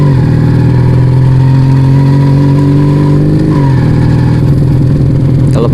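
Kawasaki Vega ZR motorcycle engine, modified to twin cylinders, running loud and close with a steady throbbing idle that rises in pitch as it is revved, then settles and revs again near the end.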